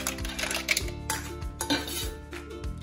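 Hard clattering knocks land in an uneven series as ice cubes tumble into a blender for a watermelon mocktail, with clinking, rattling bursts between them.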